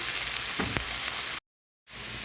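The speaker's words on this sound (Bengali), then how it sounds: "পেঁয়াজটা বাদামি করে ভেজে নিয়েছি" Onions frying in oil with a pinch of salt, a steady close sizzle that runs alone for over a second, then cuts out briefly before resuming.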